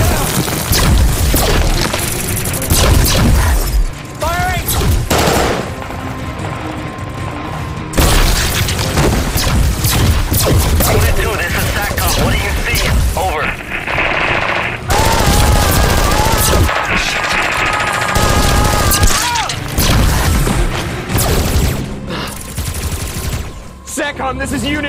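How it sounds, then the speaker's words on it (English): An action movie firefight roars with heavy gunfire. Loud booming blasts and rapid bursts come in dense waves broken by short pauses, with shouted voices in the mix. "We're taking heavy fire from unseen insurgents."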